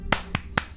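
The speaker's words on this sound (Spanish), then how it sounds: "Muy bien, aplausos. ¡Aplausos!" Three sharp, separate claps ring out in a studio, evenly spaced and fairly close, with quiet between them rather than full crowd applause.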